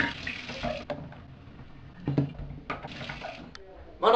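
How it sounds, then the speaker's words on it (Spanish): Water runs from a tap during handwashing, a moderate splashing that rises and falls with short breaks, mixed with rustling and a person talking nearby. "Las manos para lavármela, obvio."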